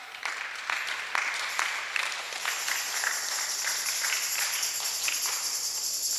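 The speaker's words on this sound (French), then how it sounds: "On acclame." A church congregation gathered for Sunday worship claps together in sustained applause, starting with a few strong bursts and then settling into a dense, even wash of hands that carries on steadily throughout.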